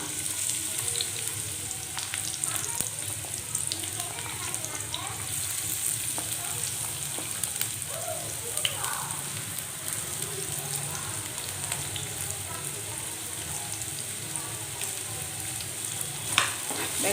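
Sliced onions sauté in hot oil with fennel seeds and cloves, a steady close sizzle and crackle running throughout with faint stirring sounds and no clear talking.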